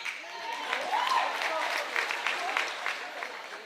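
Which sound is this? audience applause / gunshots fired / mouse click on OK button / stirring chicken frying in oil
audience applause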